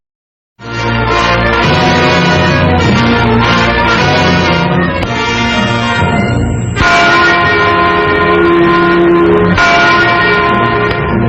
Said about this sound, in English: The Freedom Bell in West Berlin tolls in sympathy for East Germans on the first anniversary of the Wall of Shame